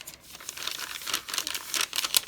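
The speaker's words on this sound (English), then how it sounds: "hear that, the crinkling." Journal paper crinkles and rustles up close in irregular bursts of crackling, moderately loud, with no talking.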